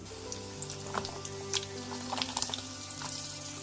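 Onion, ginger and garlic sizzle in hot oil in a pan, a steady, fairly quiet crackle scattered with small popping spatters.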